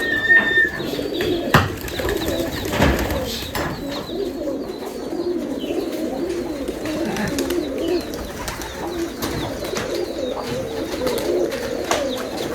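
Giribaz pigeons at a farm of about 150 birds coo steadily and overlap one another in a low, continuous murmur, with occasional wing flutters and faint chirps. No talking is heard.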